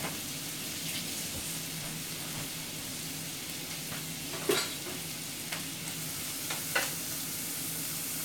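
Beef frying in a skillet, a steady close sizzle with a few sharp pops and occasional stirring clicks, heard alone.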